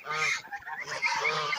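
Young geese rescued after being abandoned honk loudly and close by, a short run of repeated nasal calls with a brief pause between them.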